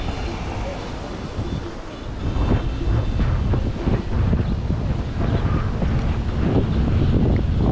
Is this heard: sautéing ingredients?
no